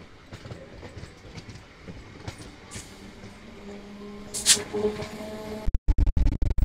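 A Sealdah–Bangaon local train runs through foggy countryside with most compartment doors and windows shut. A steady low rumble and rattle of the carriages is heard, a brief brighter screech near the end, then abrupt choppy bursts.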